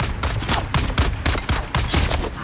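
Rapid bursts of gunfire crackle through a firefight in the video game Dune Awakening, several volleys of shots in quick irregular succession, loud and close with no talk.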